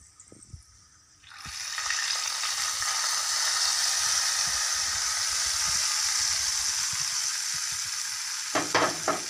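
An ingredient is added to Onam payasam in a hot pan during a cooking competition, and a loud sizzle bursts up after a few quiet clinks and holds steady, with stirring clatter near the end.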